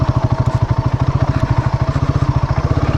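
A sport motorcycle's engine on a slippery, muddy road runs close and steady, with a rapid, even pulsing throb and no voices.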